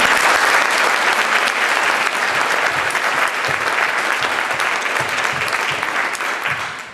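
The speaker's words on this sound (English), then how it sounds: "if we could just give her a round of applause" Steady round of applause at a spring graduation ceremony for an absent graduate, dense and sustained from a full room, easing slightly at the end.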